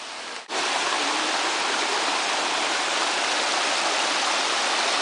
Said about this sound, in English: the creek has re-emerged again, but I don't know how well you can see this, but it's considerably less flow and it's spread out all over the place